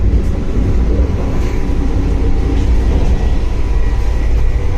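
The Howrah to Gaya Vande Bharat Express in motion, a loud, steady low rumble and roar from on board with no clear breaks.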